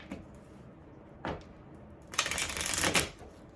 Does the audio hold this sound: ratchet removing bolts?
no